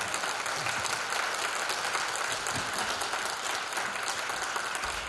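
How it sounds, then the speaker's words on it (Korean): Steady applause from a lecture audience at a Korean talk-concert on the Fourth Industrial Revolution, dense and even throughout, moderately distant with no voices over it. "시간 내주신 우리 이유 박사님께 큰 박수 부탁드립니다."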